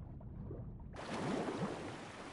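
Rushing waterfall ambience in The Last of Us, where two waterfalls pour nearby; a dense, steady roar of falling water swells in after a quieter first second and holds on without any talk.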